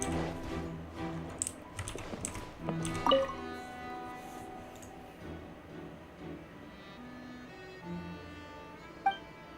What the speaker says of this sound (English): It's difficult with a loud computer or keyboard.